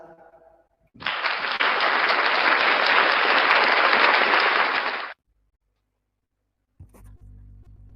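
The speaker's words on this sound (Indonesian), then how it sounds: "Tepuk tangan dulu ah." Audience applause in a hall after an MC's remark, a dense, steady burst of clapping lasting about four seconds that stops abruptly, with a brief murmur of talk before and after.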